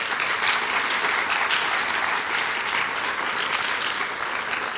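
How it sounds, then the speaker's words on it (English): Audience applause fills a dance recital hall after a Bharatanatyam arangetram performance, a steady, dense wash of clapping held at even loudness for the whole stretch with no talk over it. "I believe that deserves a lot of courage and strength and a lot of applause for them as well."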